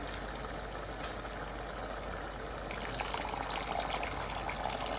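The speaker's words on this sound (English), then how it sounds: "and then some water." Water pours into a cooking pot that holds shrimp bouillon and salt, a steady gushing stream that swells louder partway through, close and continuous with no talk.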